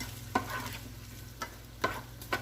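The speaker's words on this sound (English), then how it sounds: "And let that fry up." Breakfast skillet of roasted potatoes, salsa, bacon and eggs frying in a pan, a steady sizzle broken by a few sharp scraping stirs, close and clear with no voices.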